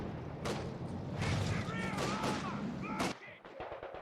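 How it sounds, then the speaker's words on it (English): Gunfire and a heavy blast crackle and boom in a video game battle, with a grenade explosion among dense rapid shots, loud and close, before cutting to quieter scattered pops. "Are they throwing a grenade? Yeah, they are."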